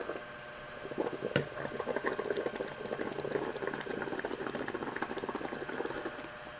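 Bubbles blown through a Dunkin' Donuts straw into liquid make a steady, close gurgling froth that churns without pause, with one sharp tick early on.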